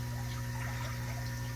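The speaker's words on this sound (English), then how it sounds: "I am just changing water in the shrimp tanks" Water runs continuously during a water change in shrimp tanks, a steady pouring and trickling wash over a low pump-like hum, close and even throughout with no speech.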